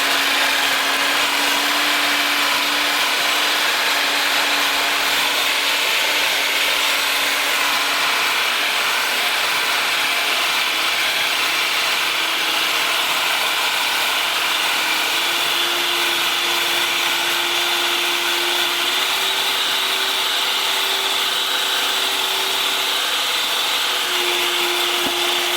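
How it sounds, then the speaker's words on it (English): An electric stand mixer whips egg whites at high speed, a loud, steady whirring drone with a rising motor pitch that runs continuously without pause and no talking. "going to turn your mixer on. Gonna be a bit loud."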